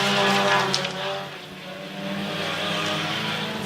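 Race cars, led by Bobby Adams in the 2 car, roar across the finish line at the inaugural Everglades-Swamp Cabbage race, a loud, sustained engine drone that swells, dips and builds again.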